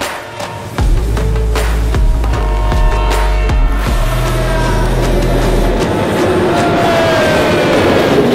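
A train on a mountain railway in Sri Lanka rumbles loudly nearby, with rhythmic clacks of wheels over rail joints and a heavy low drone that gives way to a broad rushing roar, and no voices.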